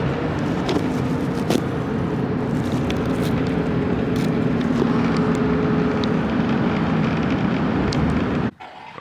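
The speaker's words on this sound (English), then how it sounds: "Aaron gives a rev when he comes through." Desert race vehicle at the NORRA 1000 off-road race roaring past with a sustained loud engine rev, a steady dense drone close by that cuts off sharply at the end.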